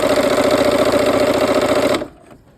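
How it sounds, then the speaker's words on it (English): Sewing machine stitching a sashing strip onto a pinwheel quilt block, a steady rapid mechanical whir running loud and close for about two seconds before stopping abruptly. "now we're sewing the sashing strip to the pinwheel or the windmill block"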